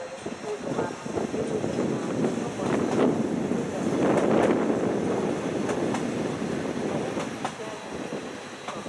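Steady rumble and clatter of a regional train rolling into Budapest Kelenföld station, with wind buffeting the microphone and faint high squeals, continuous for the whole stretch.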